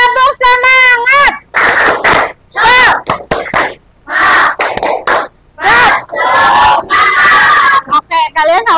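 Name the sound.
class doing the tepuk semangat clapping chant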